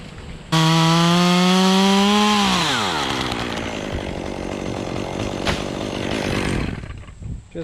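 A chainsaw cuts into a massive tree: a loud, close roar that drops in pitch as the chain bites into the wood and keeps grinding steadily before it winds down at the end.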